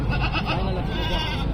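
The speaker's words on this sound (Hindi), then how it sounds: "ये बकरे जो ना माशाल्लाह से नयाब क्वालिटी के हैं" Goats bleat at a busy livestock market in Dera Ghazi Khan, a loud, wavering cry over dense crowd noise and background chatter.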